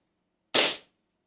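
Single sharp shot from a Colt 1911 airsoft pistol, a Cybergun/KWC 100th Anniversary model, heard close and loud against silence, with a quick decaying burst and no talk.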